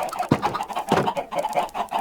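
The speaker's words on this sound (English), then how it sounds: "we're going to take out some of these super loud chickens because there's too many and we need food" Minecraft chickens clucking in a rapid, busy run of short squawks, with a couple of sharper louder hits, fairly close and with no talk over them.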